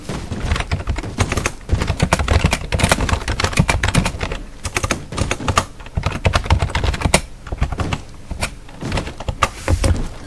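Rapid, dense computer keyboard typing used to write text into a book in Minecraft, a steady run of loud close clicks and clacks with brief pauses, lasting throughout with no talking.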